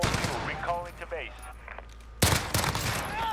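A Renetti burst pistol fires in Modern Warfare Season 3 as a quick cluster of loud, sharp shots near the end, after a voice talks and laughs over quieter game sounds.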